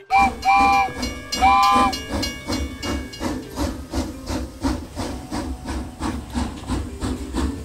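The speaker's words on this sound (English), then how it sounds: "The train is ready to depart now." Two short blasts of a steam whistle sound over the rhythmic chuffing and hiss of a steam train, which keeps puffing steadily afterward.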